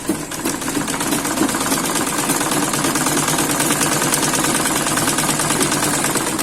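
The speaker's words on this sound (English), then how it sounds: "I'm just going to fold it in and run the stitches" Sewing machine stitching along the straight slit of a pencil skirt, a fast, steady mechanical whirring with rapid needle clatter, loud and close, running without pause.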